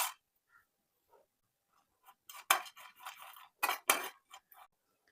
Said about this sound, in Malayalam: ഇനി ഇതിലേക്ക് ഈ പംകിൻ സീഡും കൂടെ ജസ്റ്റ് ഒന്ന് റോസ്റ്റ് ചെയ്തെടുക്കാം